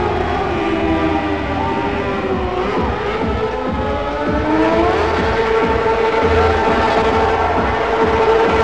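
At a motorcycle stunt show at a Brazilian theme park, a bike engine drones and revs, its pitch rising and falling as the machine rides past over constant crowd and arena noise.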